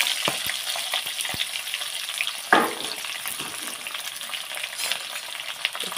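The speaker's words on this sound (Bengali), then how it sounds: "একটু ভেজে নেব।" Hog plums fry in mustard oil with four whole chillies and five-spice seeds, a close, dense crackling sizzle running throughout, with a brief scrape of stirring midway and no voices.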